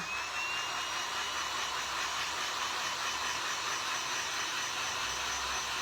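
A loud hair dryer blows steadily over a craft board from start to finish, a close, continuous whooshing whir with no talk.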